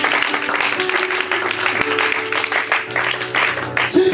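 A church congregation applauding, a steady patter of many hands clapping close by, with speech and sustained musical tones running underneath.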